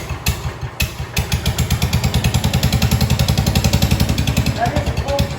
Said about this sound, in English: this is a cold start, so it generally does a pretty good job, though it doesn't like a lot of choke